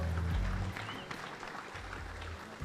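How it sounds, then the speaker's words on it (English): Audience applause at the Miss American Samoa pageant for the island's leader, a steady moderate wash of clapping from a crowd at some distance. "how about a round of applause for the leader of our island nation?"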